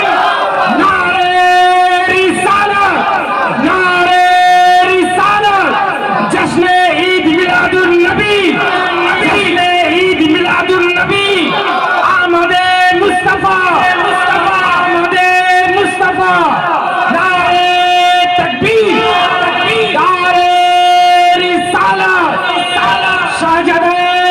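A large crowd at a religious gathering answers a takbir call, chanting a slogan in loud, rhythmic unison shouts that repeat throughout, close and dense.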